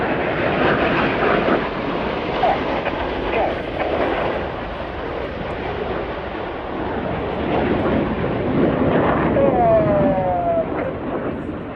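Red Arrows jets fly a display at the RIAT airshow at RAF Fairford, a loud, continuous roar of jet engines that surges and swells slightly throughout.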